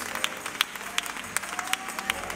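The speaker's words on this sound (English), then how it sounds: "Come on, give God a hand clap of praise." A church congregation at a Sunday service claps hands in praise, with a handful of sharp, separated claps ringing out at an uneven pace over a soft room murmur.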